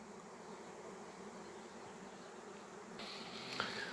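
A honeybee swarm circles in the sky above an apiary, a steady diffuse insect hum filling the air throughout, with a slight rise in intensity near the end.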